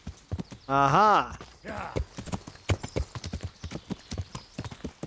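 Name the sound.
horse hooves clip-clop in video game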